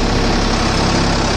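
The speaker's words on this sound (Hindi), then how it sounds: "ये देखिए कितनी स्पीड हो जाती है ट्रैक्टर में" Sonalika 745III tractor with 2X speed running in reverse at about 1300 RPM, a loud, steady, close engine drone with no talking.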